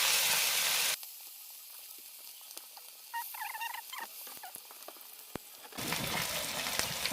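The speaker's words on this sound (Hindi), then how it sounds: "तो इसमें मैं मछली फ्राई करने लगी हूँ" Fish frying in oil over a medium flame, a soft steady sizzle with scattered crackles and pops, framed by louder broadband noise at the start and end.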